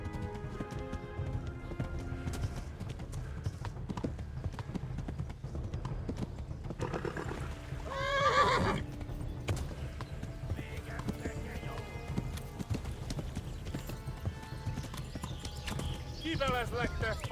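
Rhythmic clip-clop of galloping horse hooves in the video game Kingdom Come: Deliverance runs steadily throughout, layered with game music and effects, with a brief horse whinny in the middle.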